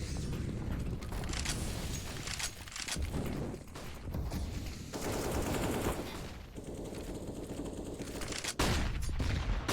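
An AK-47 barrage in Counter-Strike fires loud, dense bursts of automatic gunfire that keep going without a break, layered with game noise and mechanical clatter.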